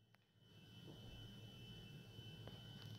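An airplane flies in a video game, a steady low engine drone that builds and holds, moderately faint, with a few light clicks and no talk.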